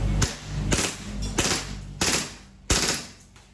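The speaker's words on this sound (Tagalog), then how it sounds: "Full auto ulit tayo, master." A Glock 18C airsoft-style pistol fires full auto in short bursts of rapid shots, about five loud, sharp bursts spaced across a few seconds with no talking.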